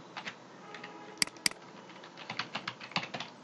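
Keys on a computer keyboard tap in quick, light runs, with two sharper clacks partway through, quiet and close with no speech over them.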